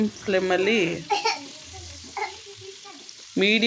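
Banana-leaf-wrapped fish laid into hot coconut oil on a tawa, a soft crackling sizzle running under a voice speaking intermittently close by.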